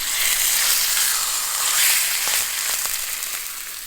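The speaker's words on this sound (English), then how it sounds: "And then I'm just gonna put a nice sear." Meat sears in a hot pan with olive oil for chipotle barbacoa, a loud, close, continuous hiss and crackle with a few sharp pops toward the end.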